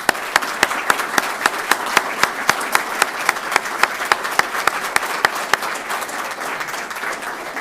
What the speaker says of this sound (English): Can we give everybody a round of applause, please?